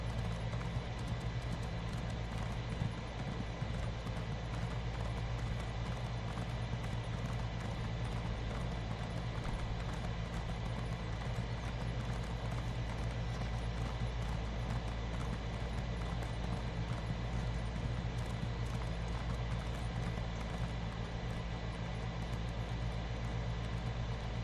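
Horse hooves in a video game, a steady rhythmic clip-clop running under a constant low engine-like hum for the whole stretch, even in level and moderately quiet, with no talking.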